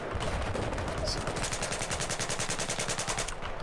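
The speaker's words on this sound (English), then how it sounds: "Snipers are still shooting across." Rapid, evenly spaced gunfire from a Battlefield 4 match, a steady automatic burst running nearly the whole time at close range with a short gap near the start, loud over a busy battlefield background.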